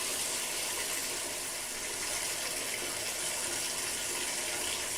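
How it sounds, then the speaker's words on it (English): Water from a tap pours steadily into a small toy bath scented with lavender bubble bath, a continuous close, bright splashing gush with no pauses. "I think that's enough water for our toys."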